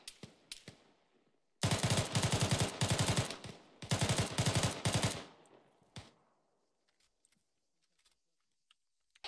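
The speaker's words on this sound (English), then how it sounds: "Shots to the southwest." Bursts of automatic gunfire in the military game Arma 3: a few single shots, then two long, loud rapid-fire volleys, followed by scattered faint distant shots.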